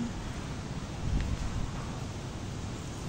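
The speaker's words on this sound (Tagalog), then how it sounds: "Lakas ang hangin." Steady, heavy typhoon wind roars across the microphone with a low rumbling buffet, a constant broadband rush that swells briefly, with no voices.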